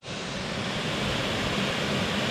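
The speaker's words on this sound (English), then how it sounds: "The water's getting louder down there at the creek, so I think we're getting closer to the falls." Steady broadband rush of creek water flowing down toward Dog Slaughter Falls, a constant even hiss heard from above the stream with no voices over it.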